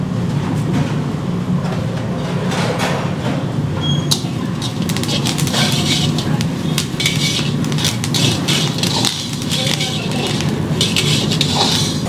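Chana dal roasts in a pan on the stove, a continuous dense sizzling crackle with scraping and stirring clinks from the utensil, close and fairly loud.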